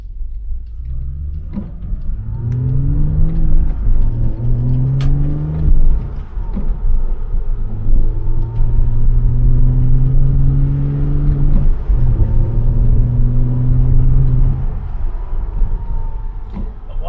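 A 2008 Porsche Cayman 987 engine hums and revs up through several gear changes, the steady drone rising and falling under road rumble, no talking.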